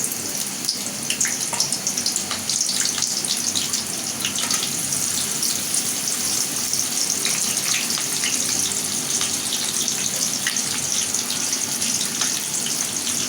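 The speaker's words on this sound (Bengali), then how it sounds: "তেল আমার গরম হয়ে গেছে এখন আমি পেঁয়াজটা দিয়ে দেবো" Onion fries in hot oil for a desi chicken curry, giving a steady, dense, loud sizzle that crackles throughout with no speech.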